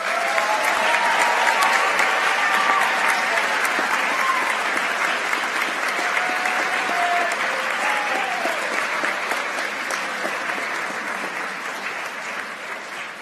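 Sustained applause from an awards ceremony audience as students stand, dense even clapping at full strength that gradually tapers slightly, with faint cheers and murmured voices in the crowd.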